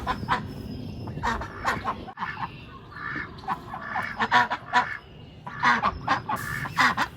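Ducks call near a frozen pond in snowy winter weather, a run of honking, quacking bursts that come and go in uneven clusters at moderate distance.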